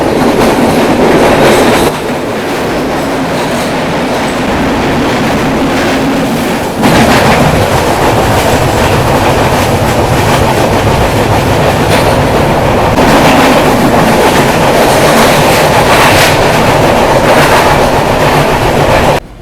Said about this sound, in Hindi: अभी अपनी ट्रेन पहुंच रही है राजापुर रेलवे स्टेशन